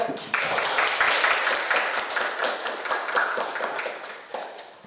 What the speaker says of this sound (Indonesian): Oke, tepuk tangan lagi ya.